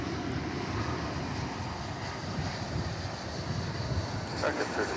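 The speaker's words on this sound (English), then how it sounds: "There is what looks to be an Airbus A319 coming in from Durango" An Airbus A319 airliner comes in to land at DFW Airport, heard as a steady, distant jet roar with some wind rumble.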